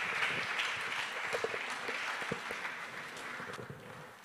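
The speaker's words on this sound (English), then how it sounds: "A round of applause." Sustained crowd applause fills a church service in Uganda, a steady dense wash of clapping from a large congregation with a few louder claps standing out, continuing throughout without speech.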